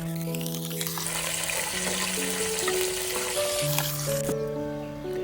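Curry leaves dropped into hot oil with crushed shallots and green chilies for a Kerala fish curry with coconut milk and drumstick, giving a continuous loud sizzle under a layer of background music tones, with no talking.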